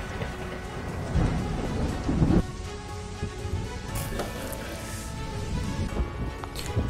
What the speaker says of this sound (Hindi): अमेरिका के फ्लोरिडा से, जहां पर भीषण तूफान की तस्वीरें आप देखिए